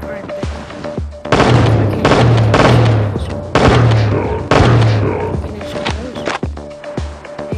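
Gunfire in the mobile shooter game Johnny Trigger, several sharp loud bursts in quick succession separated by short gaps, mixed with game sound effects, with a voice talking between the shots.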